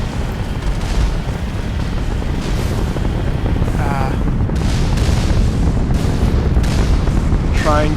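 Cannon blasts aimed at turrets in the Mass Effect game, Bring Down the Sky mission, land as several deep booms among constant rumbling battle noise, with a few sharp rising electronic chirps in between.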